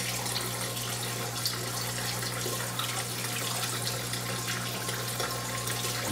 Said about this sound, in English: I got some old foam in here that I use to kind of cut down on the water noise